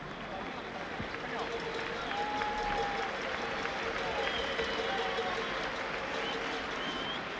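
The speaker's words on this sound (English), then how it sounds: "And applause, let it be noted," Applause from the Spanish crowd at a Spain v England football match, a distant broad roar of clapping and crowd noise filling a large stadium, steady throughout with a commentator's voice over it.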